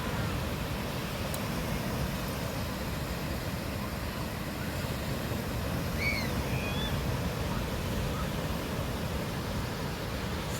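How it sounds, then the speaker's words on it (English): Ocean waves at Vilano Beach, Florida roar in a steady, dense wash of surf with wind, continuous and loud, with a couple of faint bird chirps briefly audible midway. "Some pretty spectacular waves today as well."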